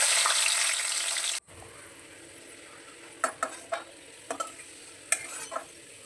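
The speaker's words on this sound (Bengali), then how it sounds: "এর মধ্যে আমি দিয়ে দেবো কালো জিরা ফোড়ন আর দিয়ে দিচ্ছি রসুন কটা এর মধ্যে ভেজে আমি তুলে রাখবো" Garlic and nigella seeds hit hot oil with a loud, steady hiss that cuts off after about a second and a half, followed by a quiet background broken by several sharp, close spoon scrapes in the pan.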